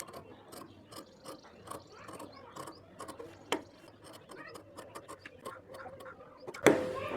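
Scissors snip through fabric between lines of stitching on a kurti, producing a quiet run of small, irregular clicking cuts close by, ending with one louder rustle.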